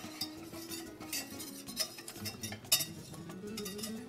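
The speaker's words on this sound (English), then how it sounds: "So we're gonna just mix it all up. Get it nice and mixed. Turns into a flour roux." Flour roux stirred in a pot for homemade pot pie, a spoon or whisk scraping and clinking against the metal in steady, light repeated strokes, close and fairly quiet, with no voices.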